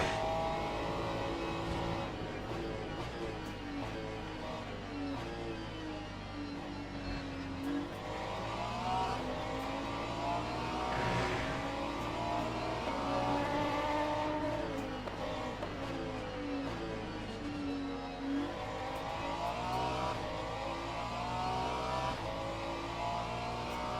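A GT3 race car in a racing video game at Monza, its engine droning loud and continuous, pitch climbing and falling through gear changes, with occasional rising revs and no voices over it.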